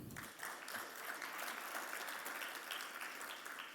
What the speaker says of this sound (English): we deserve a round of applause for that too